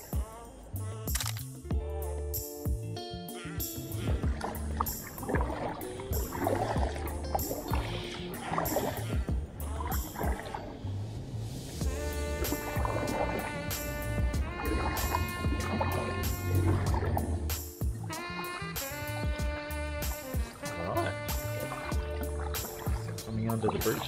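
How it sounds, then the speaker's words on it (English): A kayak is paddled against an outgoing tide at Budds Beach on the Gold Coast. Rhythmic paddle splashes and water sloshing sound close by, with wind and talking mixed in throughout. "it's outgoing tide, so it's a little bit difficult to paddle into it"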